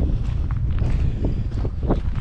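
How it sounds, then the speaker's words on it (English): Wind buffeting a GoPro microphone outdoors, a constant loud low rumble with gusty swells and faint background sounds beneath it. "Pardon the wind as well,"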